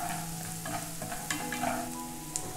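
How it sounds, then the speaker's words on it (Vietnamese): Lemongrass, garlic and onion stir-frying in a pan over a wood-fired stove, a steady close sizzle with occasional scraping stirs and soft clinks, no talking. "Khi mà xả tỏi hành lên thơm rồi thì mình cho một ít ớt băm vào đây ha."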